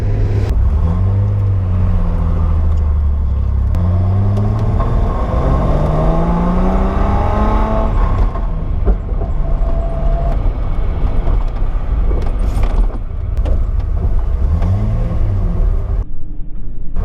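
Classic Datsun 260Z accelerating hard from inside the car, engine note climbing through several rising gear pulls, loud and close, then easing into steadier cruising.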